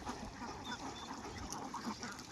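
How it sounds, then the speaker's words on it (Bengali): A flock of ducks kept in a shed at the Chalan Beel wetland farm gives low, scattered quacks at middle distance over a constant background hiss. The calls continue through the short stretch. "এই যে এই পাশে দেখেন হাঁস রাখা আছে"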